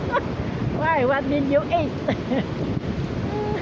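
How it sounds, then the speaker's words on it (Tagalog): Strong wind blows across a microphone by the sea after a typhoon, a steady rushing roar with surf in the background, while people talk over it. "Oh, it's still windy."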